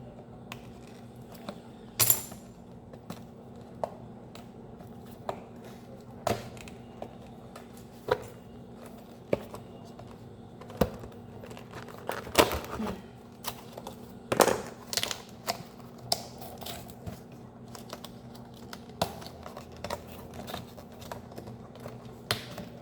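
Packaging of a Japanese knife box being opened gives sparse, faint clicks, taps and small scrapes spread irregularly across a quiet stretch, with no voices.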